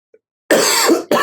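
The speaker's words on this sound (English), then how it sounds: "I had to cough real quick" A single loud, close cough bursts out after a short silence, followed by a second quick hack, from someone telling a story about a bucket-list experience.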